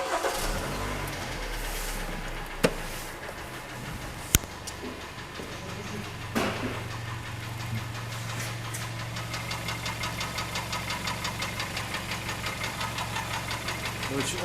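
A Hyundai/Kia G4KD engine starts and idles with a knocking fault, a few sharp clicks and a crank, then a steady low idle carrying a fast, even, repeating knock.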